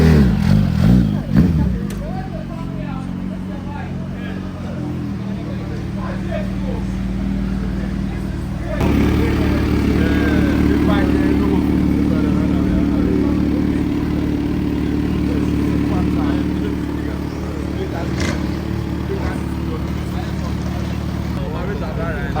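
Kawasaki Ninja ZH2 supercharged motorcycle running close by, a steady loud engine drone that steps up in pitch and intensity partway through and holds there, with brief voices over it near the start.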